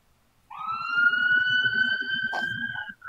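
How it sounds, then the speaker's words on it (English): A Press Your Luck video game siren wails in one steady rising tone, loud and close for about two and a half seconds, with a short blip near the end. "I heard the siren."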